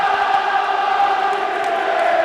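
A dense, steady roar from a stadium crowd at a Hull KR versus St Helens rugby league cup match holds at an even, loud level throughout, with no pauses.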